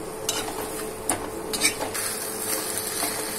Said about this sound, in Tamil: இது நல்லா அந்த சாஸ் எல்லா சிக்கன்லையும் கோட் ஆகுற மாதிரி நல்லா மிக்ஸ் பண்ணி விட்டுக்கோங்க.